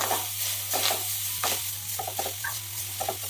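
Sugar is stirred into elanji filling in a pan, with soft scraping and clinking spoon strokes over a low steady hum, close by and with no voices.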